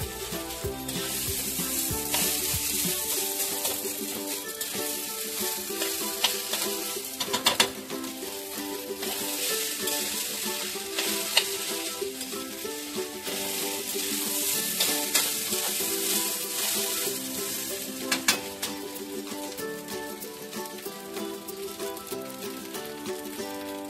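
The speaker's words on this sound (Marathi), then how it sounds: "5 मिनिटं हा असंच परतून घ्यायचा मस्त" Leftover rice sautéing in a pan gives a loud, continuous sizzle and frying crackle for the whole stretch, with occasional stirring scrapes and no talking.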